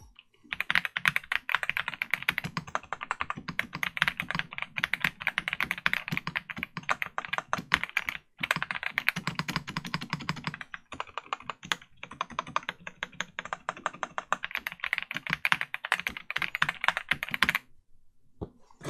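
Fast, continuous typing on a KBDFANS Tiger Lite mechanical keyboard kit with a budget case, a close, loud clatter of keystrokes that pauses briefly a couple of times before stopping near the end.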